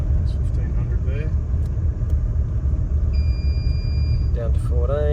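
Nissan Navara engine at wide open throttle in third gear, a loud close low rumble building steadily as it accelerates, with brief voices and faint chirps over it.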